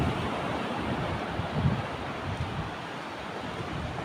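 Strong sea waves wash against a shore in a steady, broadband rush, mixed with wind buffeting the microphone, with no voices.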